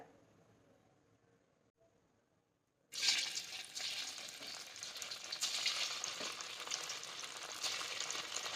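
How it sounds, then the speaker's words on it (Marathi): Bhaji fritters made from leftover rice drop into hot oil and start frying, a sudden burst of loud, steady sizzling that continues after a quiet start. "आपलं तेलही छान तापलेलं आहे चला आता यामध्ये भजी टाकून घेऊयात"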